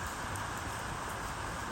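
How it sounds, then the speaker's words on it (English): Rain falls steadily outdoors during a stormy autumn afternoon, a faint, even broadband hiss with no distinct drops or pauses and no voices. "It's come through all rainy and you can probably hear thundery"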